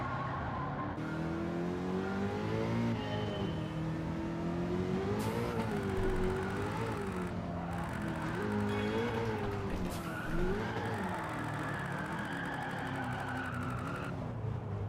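Race car engine in a racing simulator game wails through rising and falling revs, shifting gears as it brakes and accelerates, with tyre squeal mixed in, steady and close throughout.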